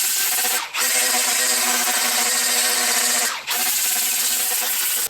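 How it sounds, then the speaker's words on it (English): A power tool buffs rust and old coating off a metal differential brace, giving a loud, continuous high grinding whir that briefly dips twice before resuming. "I need to buff rust and previous coating off of"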